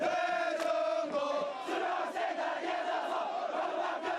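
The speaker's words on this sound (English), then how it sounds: "Not even the freezing weather is stopping high school juniors from cheering on their senior classmen to ace the exam" High school juniors in freezing weather cheering and chanting for seniors heading into the college entrance exam, a loud massed crowd shout with sustained pitched voices, steady and close throughout.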